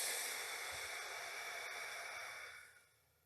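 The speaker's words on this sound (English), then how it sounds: "Take a slow, deep breath in. Exhale even slower. Exhale slowly." One long, slow, deep exhale during a breathing exercise to ease cigarette cravings: a breathy, airy hiss held close to the microphone for nearly three seconds before it tapers away into quiet.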